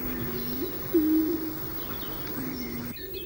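A Bolle's pigeon (paloma turqué) calling in the laurel forest of Garajonay National Park on La Gomera, giving low, drawn-out coos, one louder in the middle, with faint background forest ambience.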